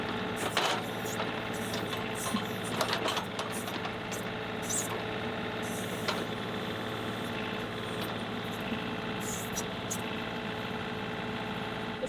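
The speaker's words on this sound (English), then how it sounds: "Let's try throttling it up, see if I get a little bit more lift." A tractor engine runs steadily and loudly throughout, throttled up to try lifting, with a constant rumble and a few faint knocks and clatters near the start.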